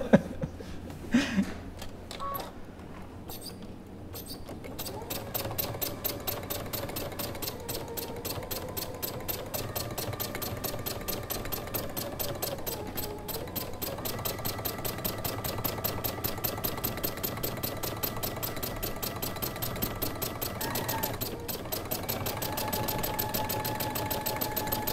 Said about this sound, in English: This is what I'm doing now is called free motion stitching.